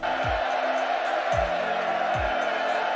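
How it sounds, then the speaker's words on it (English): Steady roaring crowd cheering for Emperor Nero in the Fate/Grand Order video game, set in ancient Rome, with a dense, constant wash of noise and a few dull low thumps spaced through it. "Listen to the crowd."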